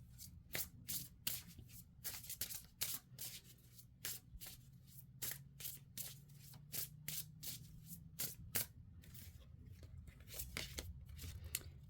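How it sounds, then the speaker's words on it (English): Oracle cards being shuffled and pulled by hand, heard up close as a long run of quick papery riffles and slaps in an uneven rhythm over a low background hum. "let's pull a couple more cards here"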